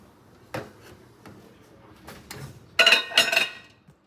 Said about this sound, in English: I'm just gonna put it in this microwavable bowl, microwavable safe bowl